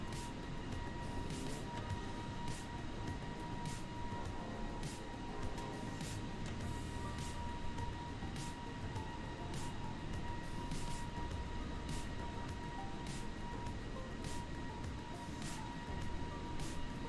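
JetBlue Airbus A321 airliner cruising in Microsoft Flight Simulator, a steady faint engine drone with a continuous hum and regular faint clicking ticks, no voices.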